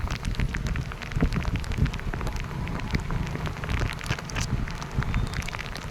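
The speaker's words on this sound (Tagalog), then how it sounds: "Umaulan tayo" Steady monsoon rain patters and splashes on a surface nearby, a dense continuous hiss with scattered drips.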